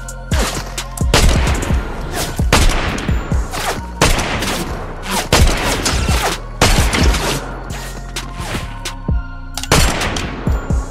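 Rapid bursts of automatic gunfire in the Fortnite battle royale video game, loud and close, firing in repeated volleys with short pauses between them and no talking.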